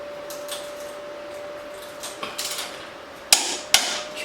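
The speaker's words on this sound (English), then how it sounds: "So we'll get this one torqued down." A wrench tightens the shock bolts on a 2016 Harley-Davidson Tri Glide Ultra, with light metallic clicks and taps building to two sharp, close clanks near the end over a quiet shop hum.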